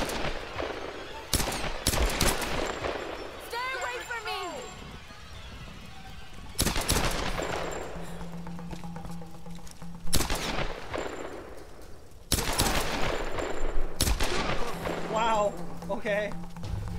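Bursts of rapid automatic gunfire and single shots crack out in the 2013 Tomb Raider video game, loud clusters separated by quieter stretches, with a spoken voice heard between volleys.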